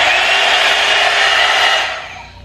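An electric hair straightening brush runs on its low setting with a loud, steady whirring hum close by, tapering off slightly at the end; no talking.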